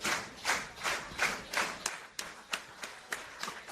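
A crowd at a women's wrestling match claps in unison, a steady rhythmic chant-clap of about two beats per second, moderately distant and continuing throughout.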